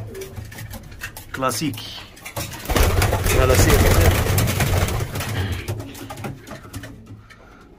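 Pigeons coo in a loft, with low, throaty calls near the start that are soon covered by someone talking loudly and a rushing background noise.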